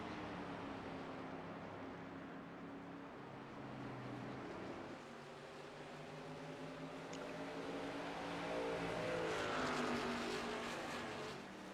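Racing trucks in a sim-racing league broadcast at New Hampshire roar steadily through the turns, several engines droning and rising in pitch together at a moderate distance, swelling louder toward the end, with no talk.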